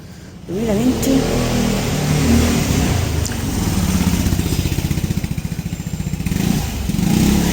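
A motor scooter passes along a street in Florence, its buzzing engine loud and close throughout, rising and falling in pitch as it revs by, with a few brief clinks near the start.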